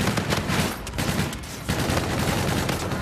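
Sustained automatic gunfire in the multiplayer shooter Call of Duty: Infinite Warfare, a dense, loud fusillade of rapid shots running almost unbroken for three seconds with only a brief dip.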